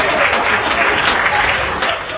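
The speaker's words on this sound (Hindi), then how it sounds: "आप तालियां बजाएं।" Dense, steady applause from an audience at a Hindi kavi sammelan poetry gathering, loud and close, filling the whole stretch without a break or any voice over it.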